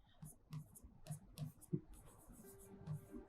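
A pen writes a maths formula on paper at close range, giving short scratchy strokes and taps in an uneven rhythm, with soft speech over the writing.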